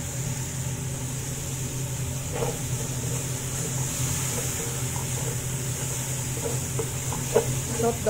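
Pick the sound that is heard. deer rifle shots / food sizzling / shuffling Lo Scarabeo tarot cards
food sizzling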